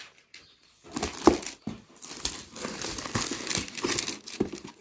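Paper packaging being pulled off a small garlic mincer, heard as close, continuous crinkling and rustling with a few sharper tearing crackles over several seconds.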